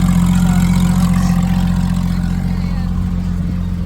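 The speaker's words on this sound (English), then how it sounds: "The Porsche GT3RS all started up." A Porsche GT3RS sits idling just after being started, its engine holding a steady, close, low droning hum with no revving.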